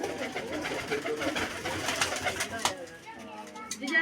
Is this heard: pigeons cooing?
yes